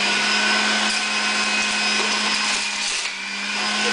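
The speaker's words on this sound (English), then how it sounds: "I think that'll go through the juicer as is." A juicer grinds chilli with a loud, steady electric whine and a grinding roar that holds without a break.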